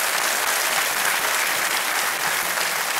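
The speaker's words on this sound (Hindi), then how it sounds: "तालियों के साथ इनका अभिनंदन।" Studio audience of a TV quiz show, Kaun Banega Crorepati, giving sustained, dense applause at an even, loud level from start to finish.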